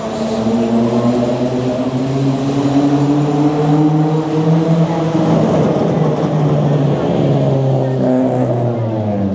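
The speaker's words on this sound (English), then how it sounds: "It's not drowning out the racket of that car" A car engine revs loudly on a busy city street near Yonge-Dundas Square in Toronto, its droning tone climbing and falling across a continuous, close roar with no gaps.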